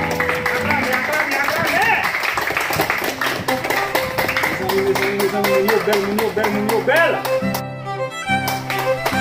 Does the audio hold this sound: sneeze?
no